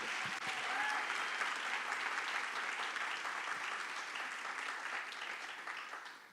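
A seminar audience at a psychoanalysis event applauds steadily, a thick wash of clapping from many hands throughout, with no talk over it.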